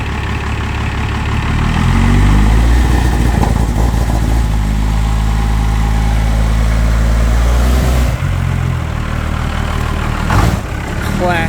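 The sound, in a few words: cheap quad engine started and running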